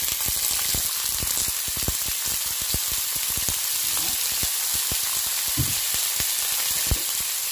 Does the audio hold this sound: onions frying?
yes